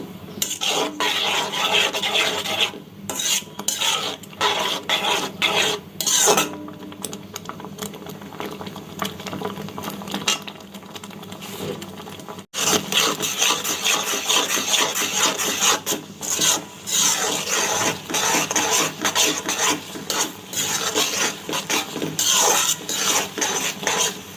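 Dry vermicelli (semai) being stirred in a pan with a little salt, a steady scraping, rasping rustle with sizzling underneath, continuous and close with brief pauses.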